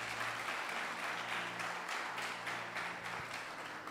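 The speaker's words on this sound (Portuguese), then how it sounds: "dê uma forte salva de palmas a Ele." Church congregation giving applause during a sermon, a steady, moderately loud wash of many hands clapping with faint underlying hum, carrying evenly throughout.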